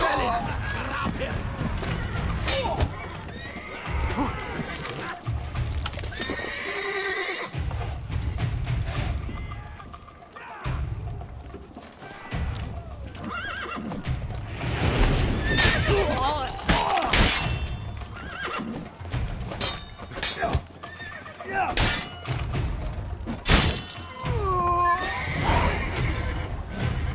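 Horses whinny and neigh loudly, with clip-clopping hooves and rushed movement, in a fantasy role-playing game. Voices break in at times.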